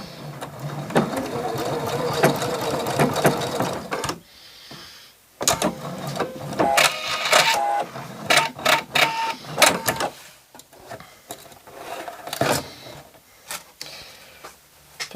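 A domestic sewing machine stitches a short seam down the fold facing on the front piece of a simple dress, its rapid mechanical whirring running in bursts with brief pauses between runs, close and fairly loud.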